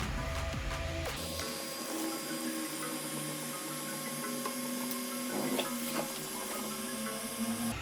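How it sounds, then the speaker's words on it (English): An Ender 3 V2 3D printer with a BLTouch sensor auto-homes, its motors whirring and humming continuously for several seconds, with shifting mechanical tones and faint clicks as the head moves; close and steady, no talking. "So your printer will start auto homing."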